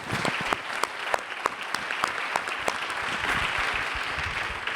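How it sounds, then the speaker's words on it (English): A conference hall audience gives a round of applause for panel discussion panelists, a dense, steady wash of clapping with a few sharp claps standing out near the front. "If everyone could join me in giving a massive round of applause for the panelists"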